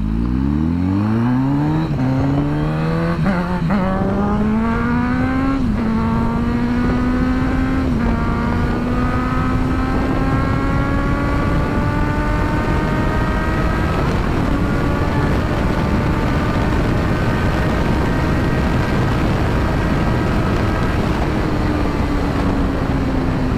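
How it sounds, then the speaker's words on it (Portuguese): A Honda CB 1000R motorcycle revs up and pulls away, its engine pitch climbing through the gears, then settling into a loud, sustained drone as it rides on, heard close with no talking. "eu vou dar uma volta na moto"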